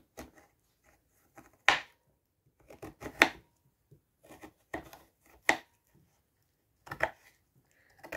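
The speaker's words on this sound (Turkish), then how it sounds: "Diğerlerinin hepsini küp küp doğruyoruz." A knife cuts quince into small bite-sized cubes on a board, giving sparse, irregular sharp chops up close with quiet gaps between the strokes.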